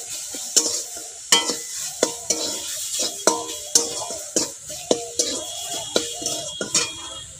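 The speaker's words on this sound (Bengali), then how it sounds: "আর দেব চা চামচের 1 চামচ হলুদ গুঁড়ো, দিয়ে একটু নেড়ে চেড়ে নেব" A spoon stirs turmeric powder through a sizzling pan for a cabbage dish, its clinks and scrapes against the metal falling in a steady rhythm about twice a second over a constant frying hiss, close and clear.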